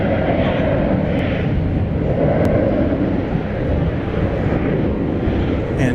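An American Airlines jet at DFW Airport, a loud, continuous broad engine roar rumbling steadily close by, with no voices over it.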